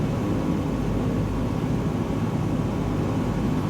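A steady, loud aircraft engine drone in Microsoft Flight Simulator 2020, flying toward Spotted Bear, Montana, holding an even, unbroken roar with no voices.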